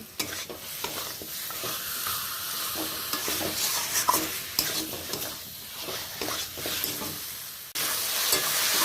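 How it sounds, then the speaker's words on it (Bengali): Marinated chicken fries in spice masala in a pan, with a busy continuous sizzle and repeated stirring scrapes up close, which cut off briefly and then return with a louder hiss. "এই যে ম্যারিনেট করে রাখা চিকেনটা আমি এবার মশলার মধ্যে অ্যাড করে দেব"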